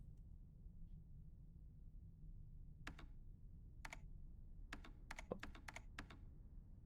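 Several sharp key presses on a computer keyboard while a game is being played, coming as isolated clicks and then a quick cluster, faint over a low steady hum.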